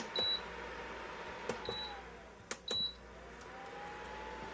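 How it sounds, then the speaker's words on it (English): Short electronic beeps from a kitchen timer being set while cooking a seafood and rice hotdish, a few separate high chirps spaced over several seconds against a quiet kitchen background. "And then you're going to set a timer for 20 minutes."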